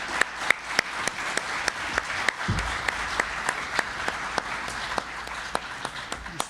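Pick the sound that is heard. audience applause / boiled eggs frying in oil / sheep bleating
audience applause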